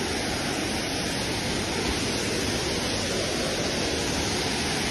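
A waterfall in Aceh Besar roars as a steady, dense rush of falling water, close and constant throughout with no voices.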